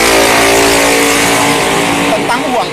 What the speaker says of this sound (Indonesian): ada kendaraan yang suaranya kencang